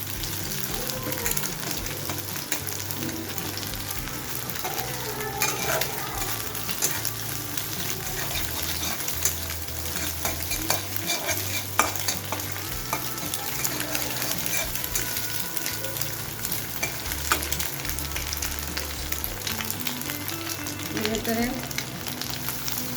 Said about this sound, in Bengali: ঢেলে দিচ্ছি লাউয়ের খোসা ও আলু কুচি